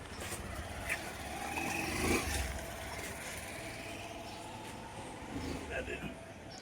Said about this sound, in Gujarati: આ ગાડી જાય છે